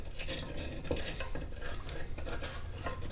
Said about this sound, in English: So I'm going to use a wooden spoon to stir it up some.